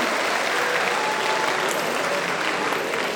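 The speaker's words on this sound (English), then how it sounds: "Let's give the 7th graders a huge round of applause for their energy and creativity." A senior school assembly fills the hall with a loud, sustained round of applause for the 7th graders, an even wash of many hands clapping with no break.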